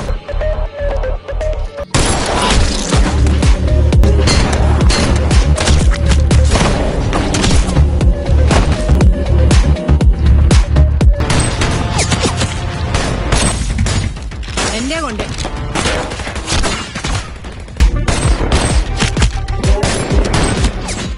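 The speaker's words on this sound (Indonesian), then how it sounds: "Setelah itu, member klub pun langsung memburu semua pasukan si Bare dengan one shot one kill" Loud sustained gunfire from a film action scene, dense automatic bursts and booming shots with crashes almost nonstop, dropping briefly before another heavy volley.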